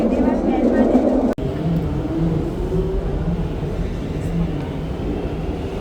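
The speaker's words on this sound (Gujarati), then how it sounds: "તો ટ્રેન ચાલુ થઈ" A small park train runs with a steady low rumble and hum, a brief jolt early on, while voices murmur in the background.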